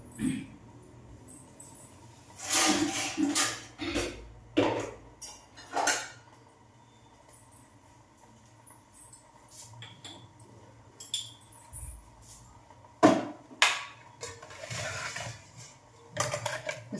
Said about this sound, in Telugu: ఇప్పుడైతే నేను కాఫీ కలుపుకుంటున్నాను